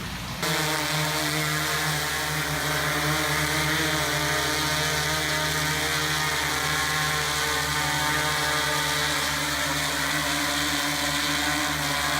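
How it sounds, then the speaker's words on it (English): A DJI Inspire 2 drone flies close by with a loud, steady propeller whine and layered harmonic buzz, starting abruptly and holding constant throughout without speech. "What kind of drone is this? It's a DJI Inspire 2."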